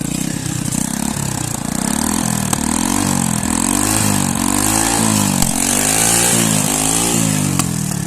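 A motorcycle engine idles steadily up close, a low, even chugging throb that holds through the whole stretch with a slight rise and fall in pitch.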